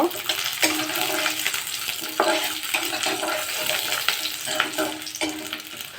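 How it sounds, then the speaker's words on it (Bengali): Whole garlic cloves and dried chillies fry together in a hot pan for a pumpkin-leaf dish, a loud, steady close sizzle broken by occasional stirring scrapes, with no voices. "এবার আমি আস্ত রসুনের কোয়াগুলো দিয়ে ব্যাস একসঙ্গে খুব ভালোভাবে ভেজে নেব।"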